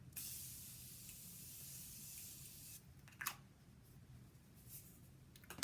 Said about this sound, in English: I'm gonna use the Morphe Mist setting spray here.